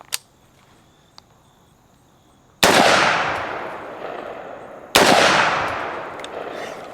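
Two loud rifle shots from a PSA JAKL fired offhand outdoors, each a sharp crack with a long decaying echo, spaced about two seconds apart after a few faint clicks.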